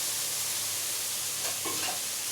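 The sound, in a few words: water added from a bowl to frying spice masala for tel koi fish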